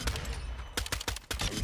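Gunfire in the video game Modern Warfare 2: a run of sharp, loud weapon shots, several quick bursts following one another in the second half.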